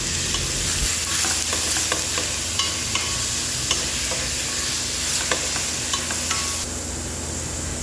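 Chicken sautéing in a pan with golden brown garlic and onion for birthday misua: a steady, close frying sizzle with scattered spoon or spatula clinks and stirring scrapes, running continuously with no talking.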